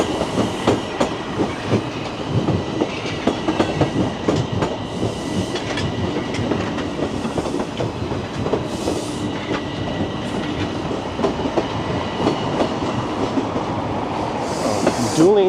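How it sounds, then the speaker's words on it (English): Two trains pass each other in Toronto, a loud, continuous rumble with rhythmic clickety-clack of wheels over rail joints and a brief squeal near the end. "Dueling trains."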